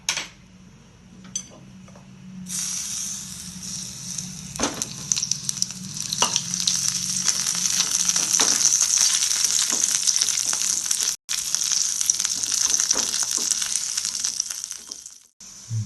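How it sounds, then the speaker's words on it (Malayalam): Steady sizzling of dates frying in hot ghee, with occasional stirring scrapes and clinks of a utensil against the pan, close up. "നമുക്ക് അല്പം നെയ്യ് ഒഴിച്ചിട്ട് ആ ഈന്തപ്പഴം കൂടി ഒന്ന് ചൂടാക്കിയെടുക്കാം."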